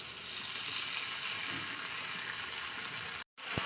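Fish curry masala with tomato sauce sautéing in a pan gives a steady, dense sizzle that holds evenly throughout, then cuts out briefly near the end before a faint return.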